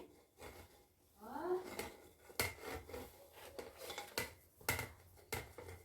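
Finely chopped jaggery is added to amla in a pot, with scattered clinks, scrapes and knocks of a utensil against the metal pot, close and uneven, a brief squeaky scrape near the start.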